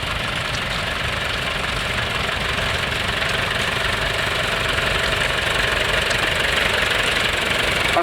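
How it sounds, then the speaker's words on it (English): International B275 tractor with a four-cylinder diesel engine running at a steam rally, a steady knocking idle chug close by, continuous and loud with no talk. "They have a 8-speed gearbox, a 4-cylinder diesel engine."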